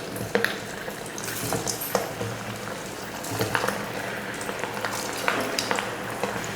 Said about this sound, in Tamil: இப்போ இதை பொரித்து எடுத்துக்கலாம்.